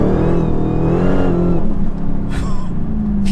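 A 915-horsepower Dodge Challenger Hellcat accelerates hard, its engine roaring loud and steady from up close as the revs climb and then settle into a dense, sustained drone.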